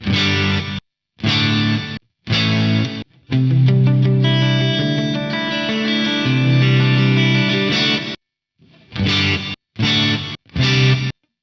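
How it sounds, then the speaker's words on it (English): A distorted electric guitar plays through gated reverb on an Axe-Fx III, in short stabs and one longer sustained passage, each ending in an abrupt cut to silence. "when I am playing, the gate's open and you're hearing reverb"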